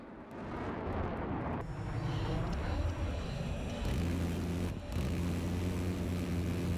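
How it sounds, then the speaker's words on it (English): A jet in the Battlefield 4 China Rising expansion roars loudly and steadily, a broad engine rush that holds for several seconds with a brief dip near the end, heard alone with no voices. "We have an enemy jet right next to him!"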